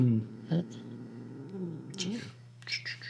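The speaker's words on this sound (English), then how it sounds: "That's my cat. This cat is very photogenic." A cat purrs and vocalizes close by with a steady low rumble, under indoor chatter between people.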